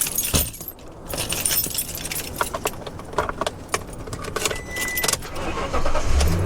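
A car engine starting after a boost from a small rechargeable portable jump starter, with clicks and rattles leading into the engine catching and rumbling louder near the end, close by and with no talk.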